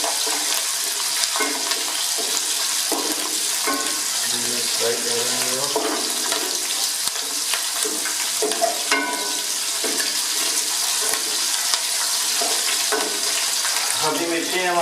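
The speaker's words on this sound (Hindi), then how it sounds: "अभी मिर्ची हमारी फ्राई हो गई हैं, 30 सेकंड के लिए हमने फ्राई किया" Green chillies fry in a pan with a loud, dense crackling sizzle that stays constant, interrupted by occasional clinks and stirring, while a voice is faintly present in the background.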